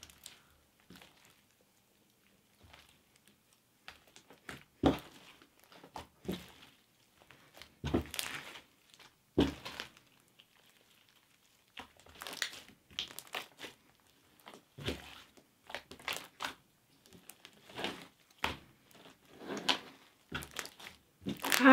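Silver sparkle slime is mixed in short bursts of wet crunching and squishing separated by quiet pauses, close and clear with no talking.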